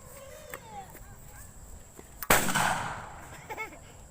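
A single sharp, loud blast from an improvised boga cannon cracks out midway, followed by a brief rushing roar that trails off, with faint chatter and background voices around it.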